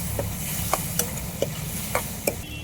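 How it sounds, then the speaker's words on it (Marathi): Cut potatoes are sautéed in a thick curry gravy, a spoon scraping the pan in about six distinct, evenly spaced strokes over a soft, continuous sizzle, close and fairly quiet. "आता टाकू आपण हे कापलेले आलू. परतून घेऊ मस्त."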